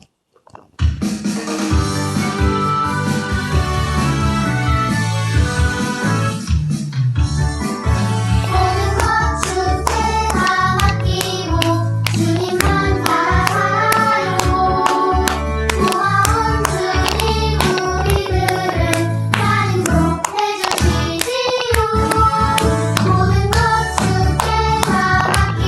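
Rhythmic hand clapping in a church children's class keeps time with a loud worship song, the claps blending into dense backing music and singing throughout.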